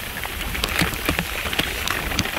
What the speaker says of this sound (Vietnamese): giờ đang mưa đùng đùng luôn các bạn